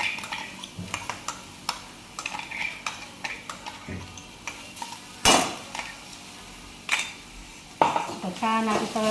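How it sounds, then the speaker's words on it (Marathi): Onion and green chili frying in a pan for aloo paratha make a soft, low sizzle under frequent clinks and scrapes of a utensil against the pan, with a few sharper knocks. "कांदा थोडासा कसा ब्राऊन कलर आला ना, त्याच्यात हिरवी मिरची टाकून घेते."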